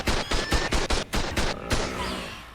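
Turrets at a base in ARK Survival Evolved fire a rapid volley of booming shots in a steady rhythm. The burst stops, and a long rumbling tail fades away afterward.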